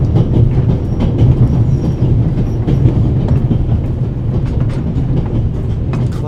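A moving steam train with a coal car in the video game The Raven Remastered rumbles loudly and continuously, its wheels giving a rhythmic clickety-clack over the track.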